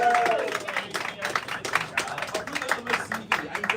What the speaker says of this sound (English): Please give a big round of applause to Michael and Sean for joining us!